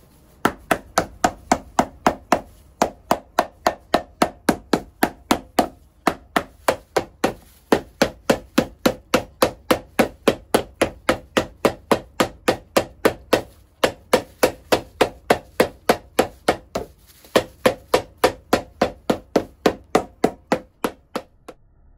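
A hammer strikes a brand-new shell cordovan Alden shoe in steady, rapid blows, dozens of sharp close taps in quick runs with brief pauses between, loud and alone with no talk.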